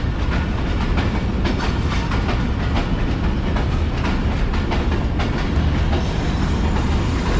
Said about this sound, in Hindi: छः बज के 7 मिनट पर ट्रेन पहुंची है